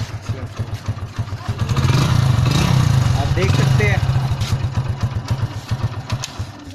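A Hero Splendor Plus i3s motorcycle engine self-starts and settles into a steady, chugging idle close by, with a rise in revs midway and someone speaking briefly over it.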